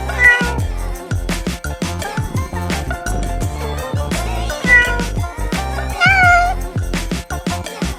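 Repeated cartoonish cat meows from a Google search screen effect, loud and close, mixed with clicks and tapping sounds in a busy, continuous sequence.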